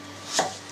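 A single quick knife cut as potatoes are sliced thin for a Tajik meat pie, with a short crisp stroke against a board over a low steady background hum.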